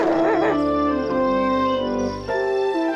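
A cartoon puppy howls loudly in long, wavering cries over a music bed, the voice sliding up and down across about three seconds with no talk.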